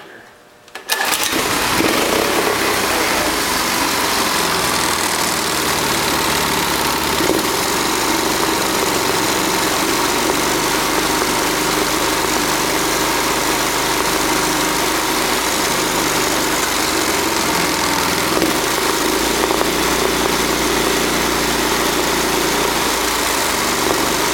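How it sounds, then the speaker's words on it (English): An engine starts and then idles unevenly and roughly, a loud, close, continuous running drone with slight wavering over about twenty seconds. "Well, I don't know why the engine's acting up,"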